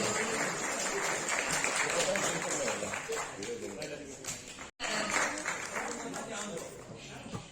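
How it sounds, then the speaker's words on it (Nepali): An audience at the Box Office International Music Award ceremony claps steadily and loudly for several seconds, with a brief cut midway, and speech over a microphone mixes in. "जोरदार तालीका साथ फेरि पनि ताली बजाउँ उहाँको लागि"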